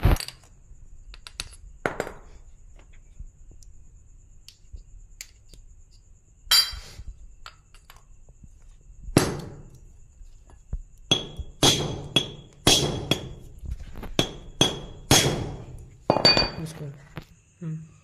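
Metal parts of a QSD gearbox clink and clatter sharply during dismantling, with scattered close knocks and taps that grow denser toward the end. Voices are heard faintly at times.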